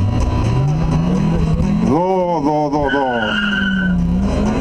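An Audi with 232 kW launches hard on a 1/8 mile drag strip in Brilon, its loud engine note climbing steeply through a wavering rev sweep amid crowd noise while a commentator talks over it.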